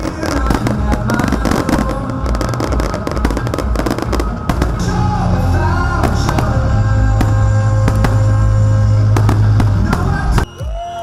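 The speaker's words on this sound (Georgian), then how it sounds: "ფესტივალის გახსნა ანაკლიაში გრანდიოზული ფეიერვერკით აღინიშნა" Grand fireworks display opening the GEM Fest electronic music festival at Anaklia, Georgia, with dense rapid bursts and crackles layered over loud, continuous festival music and crowd noise throughout.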